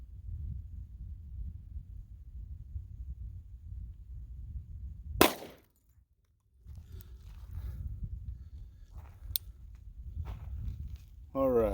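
A single sharp .45 pistol shot striking and blowing apart a gun lock, a loud crack standing out against quiet low outdoor rumble, followed by softer ambient noise and another faint snap.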